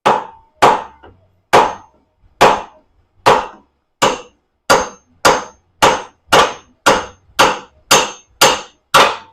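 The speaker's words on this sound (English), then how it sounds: "smack this top clamp with a rubber mallet because it is binding on" A rubber mallet strikes the top clamp of a 1997 Evo motorcycle engine under rebuild, about fifteen sharp metallic clanks that start spaced out and grow quicker and steadier, loud and close, with no talking.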